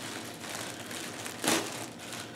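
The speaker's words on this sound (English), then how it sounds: "it comes in a plastic bag." A plastic bag holding a 5.11 Rush 24 backpack crinkles and rustles up close in a steady shuffle, with one louder crackling crunch midway; no talking.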